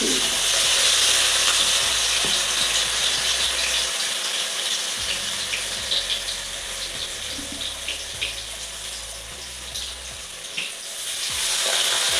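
Steady crackling sizzle of fritters made with water spinach leaves frying in hot oil, with occasional clinks and a faint running-water hiss, no voices.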